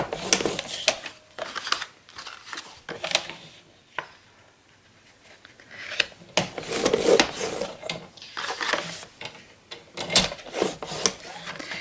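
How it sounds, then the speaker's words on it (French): Sheets of scrapbook paper being creased and folded into 1 cm flaps along three edges for album pages, heard as close, irregular bursts of rubbing and rustling with short quiet gaps and no talking. "on va faire un pli à 1 cm sur les 3 bords"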